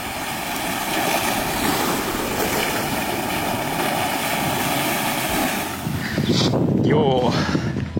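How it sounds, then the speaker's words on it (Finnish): Ocean waves roll onto a beach in Portugal, a steady loud wash of surf mixed with strong wind buffeting the microphone, and a person's voice briefly cuts in near the end. "Se tulee hienoja aaltoja tänne."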